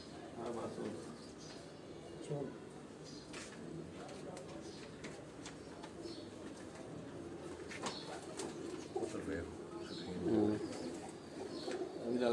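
Breeder pigeons coo softly on a rooftop loft, with low throaty calls and occasional wing flutters under ongoing nearby conversation.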